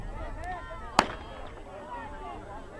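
A starter's gun fired to signal the final lap of a track race, one sharp crack standing out over a distant, murmuring crowd, with commentary voices running through.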